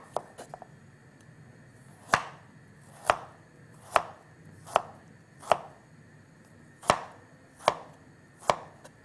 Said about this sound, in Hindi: गाजर को कर लेती हूँ जूलियन कट